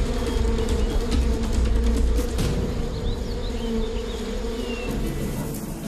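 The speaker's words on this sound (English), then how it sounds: "Thousands of bees pour from the hive," A dense, loud buzzing of many honeybees swarming from their hive, droning continuously without pause.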